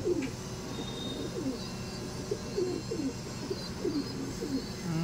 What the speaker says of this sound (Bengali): এই দেখুন পায়রা দুটো দেখুন